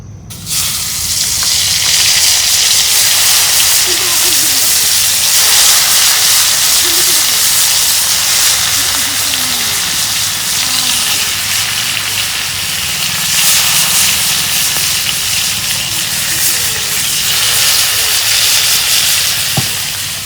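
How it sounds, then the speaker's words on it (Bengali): Steady, loud sizzling of spice-coated pangasius fish frying in hot oil, a continuous hiss that fills the whole stretch with no voices. "তেল গরম হচ্ছে, মাছগুলো আমি ভালো করে মাইকা নিলাম মশলা দিয়ে। এখন আমি মাছ ভাজা নেব।"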